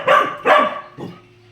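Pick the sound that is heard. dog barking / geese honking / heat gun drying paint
dog barking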